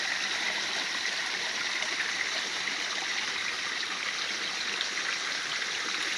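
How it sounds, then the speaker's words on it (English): Water churned by spinning balls in a koi pond at night, a steady rushing, bubbling flow like a small stream, continuous and fairly loud with no talk over it. "The water is moving like crazy by the spinning balls."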